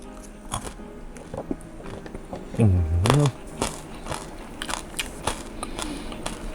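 Crunchy bites into crispy pork with noodles, a few crackling crunches close to the mic amid quiet chewing, with a brief low murmur partway through.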